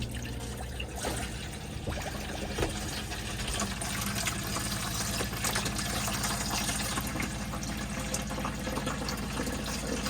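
Hot water runs steadily from a tap into a hand basin in an Elddis Majestic 115 caravan for about ten seconds, a continuous splashing rush with no talking.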